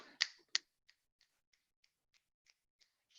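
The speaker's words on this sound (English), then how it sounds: "And finger snap." Finger snaps during a children's poetry workshop exercise: two sharp, close snaps followed by a string of fainter, evenly spaced snaps fading out, with no talk.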